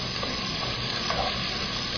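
Chopped onion and cumin seeds sizzle steadily in a hot pan, a dense, even frying crackle that stays close and constant throughout, with no voices.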